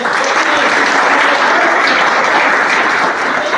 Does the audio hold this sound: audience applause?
yes